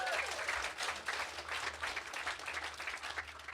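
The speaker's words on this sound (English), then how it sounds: "he deserves applause" An audience breaks into steady applause at a Green Party talk, a dense wash of clapping held at moderate distance throughout.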